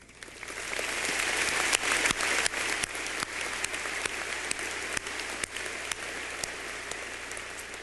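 Commencement audience at the College of William and Mary applauding, a dense, steady wash of many hands clapping that swells within the first second and holds at an even level throughout.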